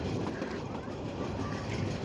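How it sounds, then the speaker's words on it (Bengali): Steady low rumble of a train rolling along the rails, heard from aboard, continuous and fairly even, with a faint rattling texture throughout. "ট্রেন জার্নিটা করতে করতে একটু ভিডিও করে নিলাম"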